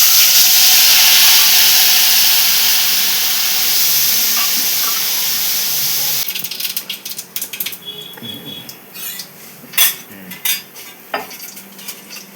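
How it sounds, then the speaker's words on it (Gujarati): Dal tempering in hot oil gives a loud, steady sizzling hiss for about six seconds. It then fades into quieter frying, with scattered metal clinks and stirring knocks from utensils against the pot. "જો આ દાળનો વઘાર કરું છું."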